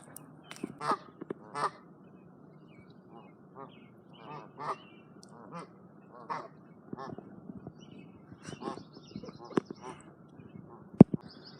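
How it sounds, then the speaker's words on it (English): Geese honk intermittently nearby in short, scattered calls, with softer quacking and rustling in between and quiet stretches. "I'm gonna hang out with some geese. Geese are here."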